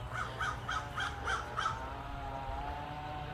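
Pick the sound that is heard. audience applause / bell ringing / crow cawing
crow cawing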